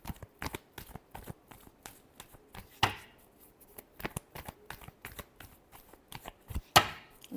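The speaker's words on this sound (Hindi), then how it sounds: "last shuffle" Tarot cards are shuffled in a quiet room, with a rapid run of crisp riffling flicks and taps, two sharper bursts standing out, and no talking.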